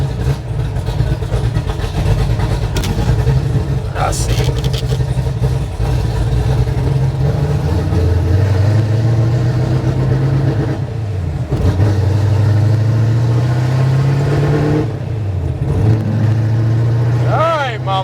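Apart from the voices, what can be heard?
1969 Road Runner 660HP Mopar engine revving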